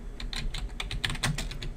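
Quick, light keystrokes on a computer keyboard as a short file name is typed, a rapid uneven run of close, crisp clicks heard alone.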